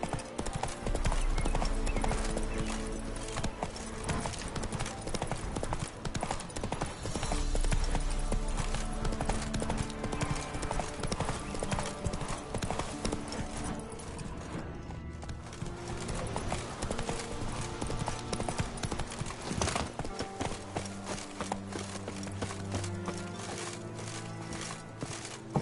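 Roach the horse gallops in The Witcher 3, steady hoof clip-clop running loud and continuous for the whole stretch over a dense game soundtrack, with a brief whinny likely and a short spoken line.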